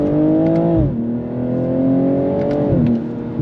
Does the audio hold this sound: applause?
no